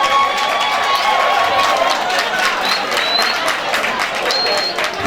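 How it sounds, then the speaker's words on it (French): Audience applause fills the hall at a school excellence competition grand final, honoring the team from Lycée moderne de Gando: steady, dense clapping with crowd noise, loud and continuous throughout. "On les applaudit."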